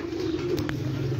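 Pigeons coo from a rooftop loft in a low, steady rolling murmur that runs throughout, close and continuous, with a couple of faint brief clicks or flutters partway through and no voices over it.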